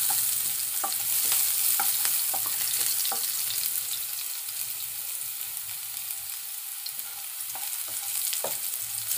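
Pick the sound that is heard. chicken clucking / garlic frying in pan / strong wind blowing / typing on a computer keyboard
garlic frying in pan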